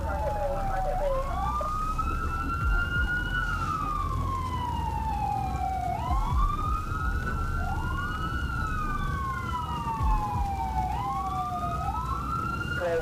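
Police and ambulance sirens wail continuously, rising and falling in repeated sweeping cycles from several overlapping units, steady and moderately distant over a low road rumble.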